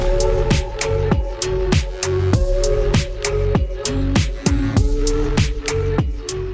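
A Minecraft music disc playing as a steady, looping beat of regular pulsing hits over sustained tones, loud and continuous throughout with no talking.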